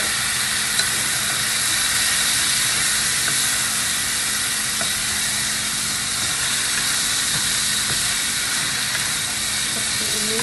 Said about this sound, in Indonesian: Setelah menguning, kita taruh sayurannya, kita tumis sayurannya pemirsa ya.